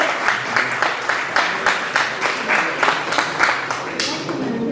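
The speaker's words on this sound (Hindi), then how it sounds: "जी, आप तालियां मारते रहिए ताकि इनको हौसला मिलता रहे।" Seminar audience claps in uneven bursts, a moderate crowd applause with a rhythmic pulse of hand claps, while a voice talks over part of it.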